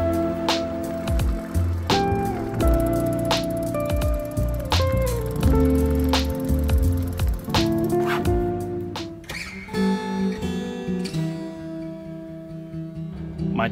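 Aventon Aventure eBike out on a test ride after a rear tire change, giving steady rolling and rattling noise with recurring clicks and bumps, moderately loud throughout.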